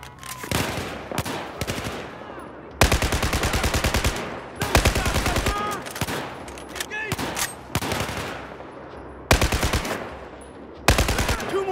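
Automatic weapon fire in the video game Battlefield 4, with loud bursts of machine-gun shots coming in repeated volleys separated by short gaps, some bursts sustained for over a second.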